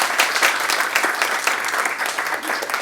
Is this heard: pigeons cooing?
no